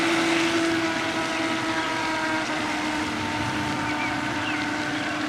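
Electric motor of a vintage RC boat running on water, a steady droning hum with a strong constant tone and broadband wash throughout, fairly loud and close, no voices.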